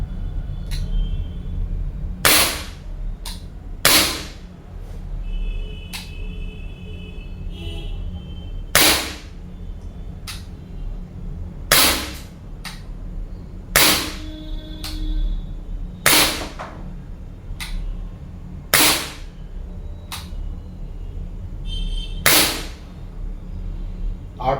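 A SIG Sauer P226 CO2 BB pistol fires stainless steel BBs, roughly a dozen sharp, loud cracks spaced a couple of seconds apart over a quiet hum.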